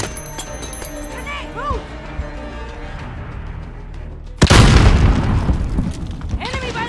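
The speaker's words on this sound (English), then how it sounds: "Grenade!" A grenade explodes in Call of Duty Modern Warfare's prison break mission, a sudden loud close boom that rumbles and decays, following shouted battlefield chatter and gunfire.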